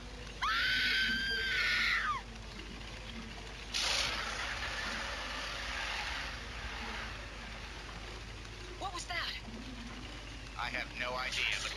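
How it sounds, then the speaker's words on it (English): In the King Kong video game, a woman screams loudly and repeatedly in long shrill wails, with a later burst of rapid, broken screaming and game ambience underneath. "Scream and scream for your life!"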